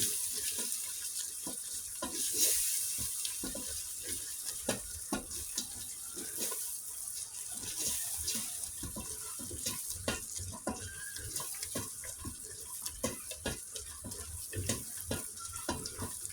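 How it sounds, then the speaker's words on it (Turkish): Water goes into a soup pot on the stove with a steady running hiss and sizzle, while a spoon scrapes and stirs with repeated clicks against the bottom. "şu vaziyette hafiften dibine tutarken beraber suyunu veriyorum"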